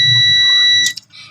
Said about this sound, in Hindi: ये बीप आपको सुन पा रहे होंगे।